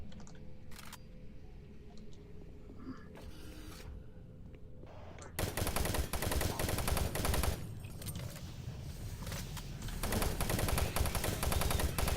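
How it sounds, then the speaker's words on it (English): Machine gun fire in the video game Doom 3, a dense, loud burst of rapid automatic shots that erupts after a quieter stretch and continues with short pauses. "at least the machine gun is pretty good"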